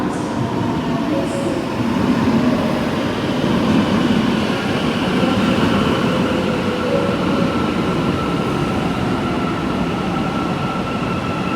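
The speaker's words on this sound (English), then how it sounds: "I will take the subway." A subway train on an Istanbul metro line rumbles steadily and loudly throughout, with a constant roar and faint higher whines.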